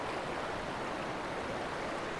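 River water flows with an even, continuous hiss and rush, steady and fairly soft, with no other sounds standing out.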